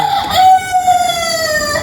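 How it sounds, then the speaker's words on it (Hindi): Roosters crow at midday, a loud, close, drawn-out rising and falling call with a second crow overlapping, heard alone. "ये मुर्गे देखो दोपहर में बांग मार रहे हैं"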